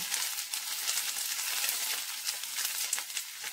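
Cubed capsicum stirred in a hot pan for a Bengali jackfruit chilli, giving a steady close sizzle of frying with soft scraping under it and no voices.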